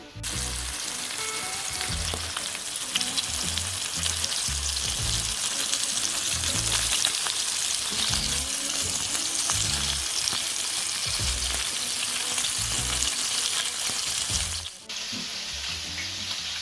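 Meatballs for Swedish meatballs fry and brown in a pan, making a dense, continuous sizzle with rhythmic stirring or turning sounds, close and fairly loud, easing briefly near the end.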